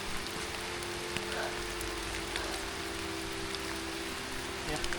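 Heavy rain falls steadily on a slippery mountain trail at Bukit Watu Jengger near Mojokerto, a dense, even hiss with scattered close drops throughout and no clear thunder.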